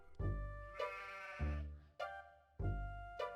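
Sheep bleating in the video game Harvester, with several loud, wavering bleats close by, each about a second long and separated by brief gaps.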